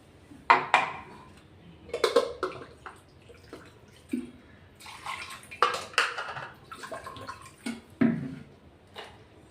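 A mixer jar is rinsed with water in a home kitchen, giving intermittent sloshing, splashing and clinking knocks of the jar in irregular bursts, close and fairly loud.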